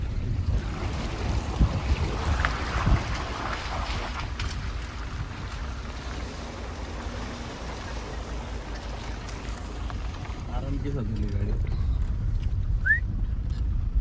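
A vehicle drives through a wide river crossing, its wheels churning water in a continuous rushing splash under low engine rumble and wind buffeting the microphone, growing a little louder toward the end.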